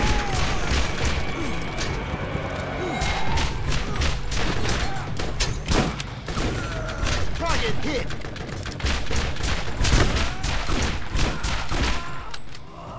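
Rapid gunfire in the video game Borderlands, dense bursts of loud cracking shots and fusillades hammering almost continuously, mixed with booms and impacts.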